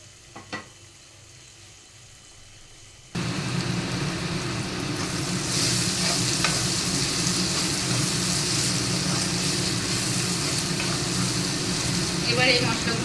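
Ginger frying in hot oil for Bengali fish kalia, a steady broadband sizzle starting suddenly after a few quiet seconds and holding loud and close, with faint stirring clicks near the end.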